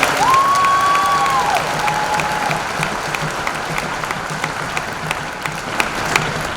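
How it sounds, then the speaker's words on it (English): A high school commencement audience applauds the graduating class, a full, sustained round of clapping from a large crowd with a brief whistle near the start and scattered cheers, holding strong for over six seconds. "Let's give yourself a round of applause."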